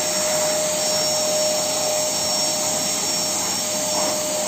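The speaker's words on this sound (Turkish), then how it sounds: "mutfağa süpürge çekiyoruz" A vacuum cleaner roars continuously at close range in a kitchen, a loud steady whine with a high tonal hum and no talking.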